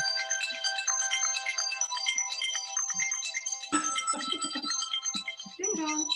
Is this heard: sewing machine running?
no